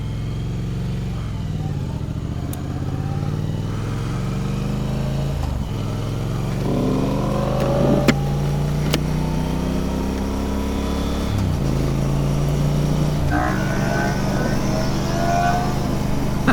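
A motorcycle's exhaust drones steadily through a rider intercom, rising and falling with throttle and gear changes, constant and close with compressed, slightly muffled character.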